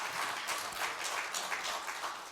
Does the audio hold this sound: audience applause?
yes